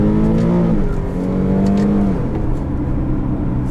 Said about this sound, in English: do you hear the rev match downshifts too?